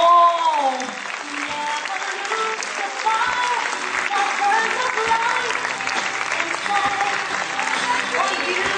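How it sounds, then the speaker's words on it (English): Parents at a school annual function applaud steadily and loudly after a children's dance performance, a dense continuous clapping with voices mixed in throughout. "Parents, your clapping has gone down"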